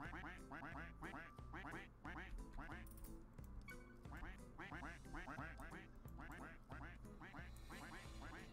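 Repeated cartoonish duck quacks from the Roblox game Duck Army come in dense rhythmic bursts over game music, loud and continuous, with a voice talking intermittently.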